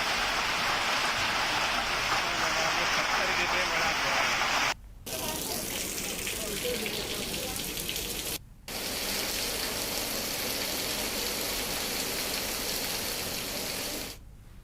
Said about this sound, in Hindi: वहां पर बारिश के साथ जमकर ओले गिरे हैं